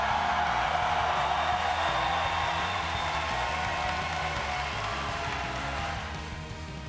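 Crowd noise at the 2025 Pokémon UNITE Championship Series finals: a large audience cheering and shouting for the Peru team, a dense steady roar of voices and scattered clapping that stays loud throughout and eases off slightly at the end.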